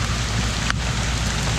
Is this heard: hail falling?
yes